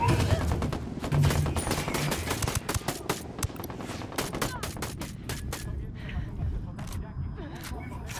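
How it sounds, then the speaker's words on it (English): Gunfire in the video game Ghost Recon Wildlands: rapid, sharp bursts of shots crackle in quick succession, thinning out toward the end, with voices talking underneath. "Oh, they're already shooting us."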